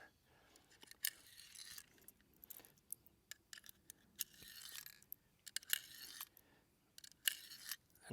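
Small metallic clicks and clinks as CCI Maxi Mag .22 Magnum rimfire cartridges are loaded one by one into a Henry pump-action rifle, faint and close, with irregular sharp ticks scattered through a quiet background.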